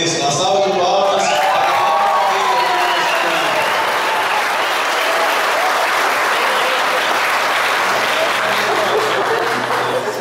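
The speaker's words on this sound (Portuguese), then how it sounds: "uma salva de palmas" Dense, sustained applause fills a wedding ceremony for about ten seconds, a crowd clapping steadily and close, with a voice briefly heard at the start.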